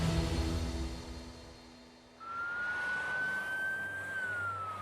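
An ambulance racing through the market town of Pontefract toward a bike accident, its siren rising in after a low engine rumble and holding a steady wailing tone, moderately distant, with no talk.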